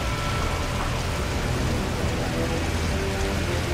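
Heavy rain pouring steadily during a storm in the video game Modern Warfare 3, a dense, even, continuous wash of noise with no pauses or voices.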